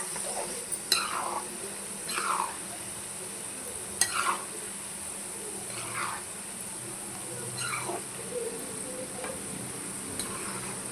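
Sliced okra frying in oil in a pan, a steady sizzle with a spatula stirring and scraping roughly every two seconds, close and clear, no voices.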